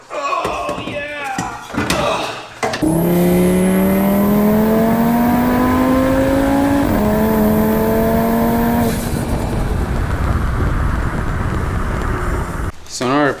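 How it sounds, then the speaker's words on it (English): A sheriff's car passes close by on the road with a steady rising engine drone and tire roar that swells and then fades, while people talk over it inside a Miata undergoing a turbo install. "We're getting passed by the sheriff."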